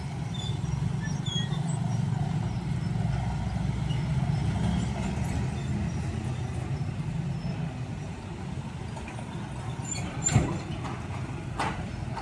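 A Hino 500 wingbox truck rumbles past at a railway crossing, a steady low drone of heavy traffic that stays loud throughout, with a brief sharp clack near the end.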